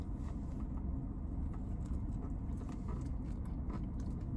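Someone eats a Cane's chicken tender sandwich with coleslaw, honey mustard and Cane's sauce inside a car, giving close, soft, crunchy bites and chewing over a steady low background hum.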